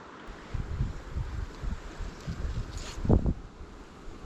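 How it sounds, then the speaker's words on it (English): Gusty wind buffets the microphone outdoors beside a small stream during fly fishing, rising and falling in a few low rumbling bursts. "Hey, wow, that wind."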